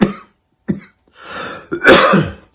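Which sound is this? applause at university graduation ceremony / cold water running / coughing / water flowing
coughing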